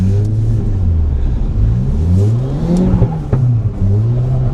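Audi TT engine revving on a race track during testing, loud close revs rising and falling in repeated throttle blips, a steady rumbling drone with no talking.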